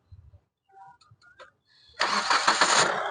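A 2019 Hyundai Creta 1.6 diesel starts after a few soft clicks and movements. The engine catches suddenly and settles into a loud, steady, close-up idle.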